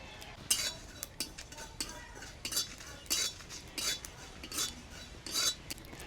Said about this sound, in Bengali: তার আগে মশলাগুলোকে একটু কড়াই ভেজে নেব।